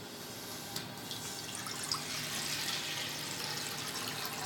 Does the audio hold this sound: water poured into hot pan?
yes